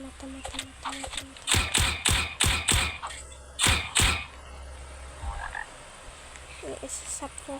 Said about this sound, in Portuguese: Esse sapo vai ficar mexendo o saco